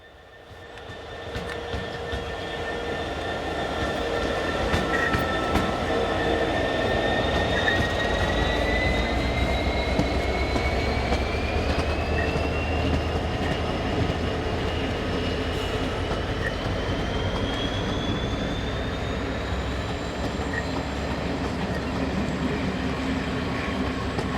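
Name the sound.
Class 66 diesel locomotive train passing on heritage railway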